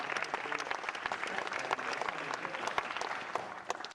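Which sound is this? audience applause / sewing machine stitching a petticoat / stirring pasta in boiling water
audience applause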